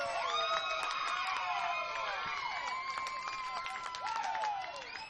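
A crowd at a youth baseball game cheers and whoops after a double play, with high shouts and children's voices carrying loudly and continuously before easing slightly at the end.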